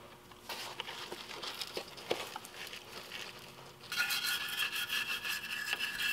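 Wire brush scrubbing the mounting surfaces during a Lexus GX 470 lift kit install, a steady rasping scrape that turns louder and brighter in its final seconds, with no talking.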